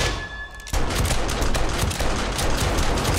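Automated turrets in 7 Days To Die open up on a horde, a quiet moment giving way to loud continuous rapid gunfire with heavy thumps that carries on without a break.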